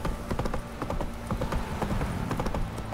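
Roach, a horse in The Witcher 3, trotting with close, brisk clip-clop hoofbeats in a steady rapid rhythm, clear and moderately loud throughout.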